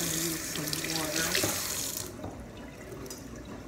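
Water runs from a kitchen tap while corn cob jelly is prepared for canning, a close hissing splash that quiets partway through as the flow drops, with some faint talk.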